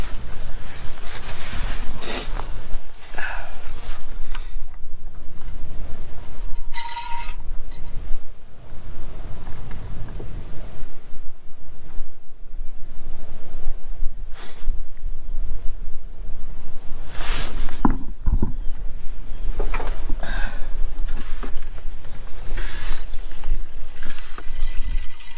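A pump drawing old oil out of a Scag mower engine makes a continuous loud gurgling slurp, with uneven sucking surges and bubbling bursts across the whole stretch.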